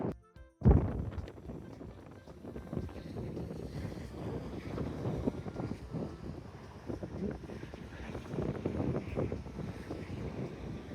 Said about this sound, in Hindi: इसमें हवा बहुत चलती है, तो पता नहीं मेरी आवाज़ कैसी आ रही होगी